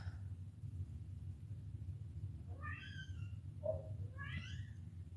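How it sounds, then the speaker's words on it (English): Two cat meows, drawn out and rising, sound at moderate distance over a steady low rumble, with a short chirp between them. "I can hear my cats like screaming right now"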